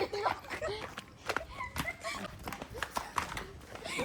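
A cow arrives at a village home at night, its hooves clopping in an uneven run of close steps mixed with people's voices and background chatter.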